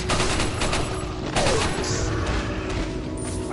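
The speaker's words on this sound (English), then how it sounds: "So satisfying to use grenades" Grenade blasts and rattling gunfire in Resident Evil 4 (2005) crowd a dense, loud stretch of combat, with bursts and crashes layered over a constant noisy game backdrop.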